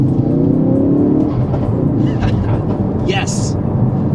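A Ford Focus RS tuned with the Mountune FPM375 package pulls hard in second gear, its engine a loud continuous roar with brief whooshing and popping sounds near the end.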